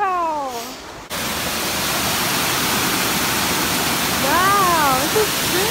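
A big waterfall roars close by as a constant, dense rush of falling water, with a voice speaking briefly over the steady noise.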